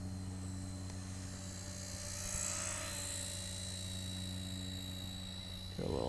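Tiny RC helicopter passing close by, a steady high-pitched motor whine with a sustained rotor buzz that swells slightly as it nears, no voices.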